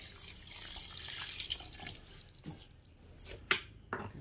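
Coconut milk pours into a cooking pot for ginger-flavored ibos, a soft liquid trickle followed by a few sharp clinks and drips, fairly close and quiet.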